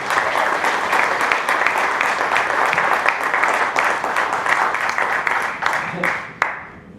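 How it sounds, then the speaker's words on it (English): A conference audience at Podcamp Pittsburgh applauds a speaker being welcomed to the stage, loud sustained clapping from a large crowd that holds steady, then thins out near the end. "a round of applause for Boston's Chris Brogan"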